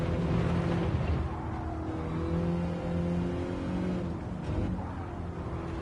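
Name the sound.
racing car braking downhill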